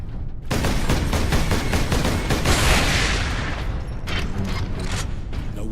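Gun turrets fire in the Space Marine video game, a loud, dense barrage of rapid shots that goes on almost without a break after a brief quiet start.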